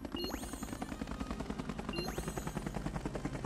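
Helicopter in Lego The Incredibles game, a steady rapid rotor thumping that holds throughout at moderate level, with two rising whistling tones sweeping over it, no voices.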